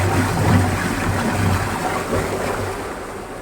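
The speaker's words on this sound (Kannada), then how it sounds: "ನೋಡಿ, ನೀರು ಹೋಗ್ತಾ ಇದೆ." Steady broadband rush of water flowing at a dam in Wayanad, a continuous roar with low rumble, close and fairly loud, no voices.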